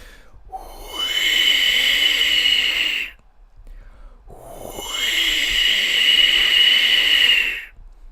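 A toothless man imitates an eagle call with his voice, giving two long breathy, screechy cries, each lasting about two seconds, separated by a short pause, close and fairly loud.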